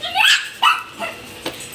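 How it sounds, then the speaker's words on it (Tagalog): A small Maltese dog lets out four short, high-pitched barks and yips at irregular intervals, the first two loudest and close by. "Maltese ata yung aso na yan."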